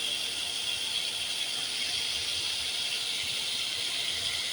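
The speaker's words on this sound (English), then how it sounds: "That noise you hear? It's the hose running." Steady broadband hiss of water rushing from a hose, constant and unbroken, with no voices.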